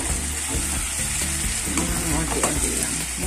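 Buttered salmon belly with garlic fries in a pan with a steady, close sizzle and spatter, and occasional stirring scrapes mixed in. No one speaks.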